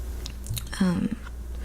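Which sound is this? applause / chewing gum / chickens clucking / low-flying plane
chewing gum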